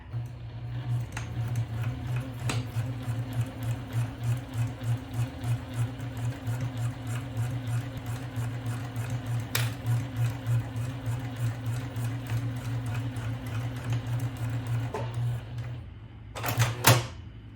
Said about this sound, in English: Here in the sewing machine, I'm going to start to sew.